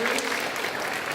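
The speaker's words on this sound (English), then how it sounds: "Give yourselves a round of applause." A brief, dense burst of audience applause at a talk in Manchester, loud and continuous throughout.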